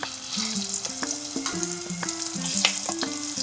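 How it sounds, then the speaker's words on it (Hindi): A ground paste frying in leftover ghee, a busy crackling sizzle with scraping and bubbling pops, close and continuous with no voices. "इस पेस्ट को जो हमारा घी बचा हुआ था उसमें डाल देते हैं।"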